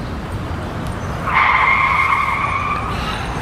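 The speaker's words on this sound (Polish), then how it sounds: "Tak jak zapowiedział, przyjechał Ferrari." A Ferrari sports car arrives with a sustained, steady tonal whine lasting about two seconds over steady background rumble. The sound sits at moderate distance with no voices.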